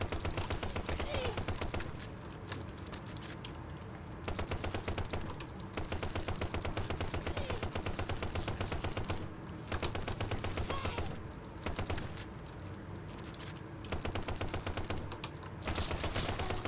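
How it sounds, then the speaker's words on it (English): The mythic drum gun fires rapid, sustained automatic bursts in the Kill the Emoji remake, loud and close, with several short pauses between long strings of shots. "we got the mythic drum gun. Man, bro, these guys eat bullets."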